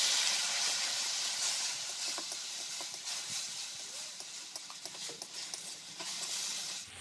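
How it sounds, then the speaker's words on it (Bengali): Steady, hissing sizzle as a little water hits frying spices and fish with turmeric and chili powder in a hot pan, a bright, continuous close hiss with faint stirring ticks and no talk. "অল্প একটু জল দেব।"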